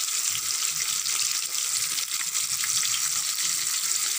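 Prawns sautéing in a pan in a home kitchen, a steady bright hiss and crackle of sizzling oil, continuous and close with no voices.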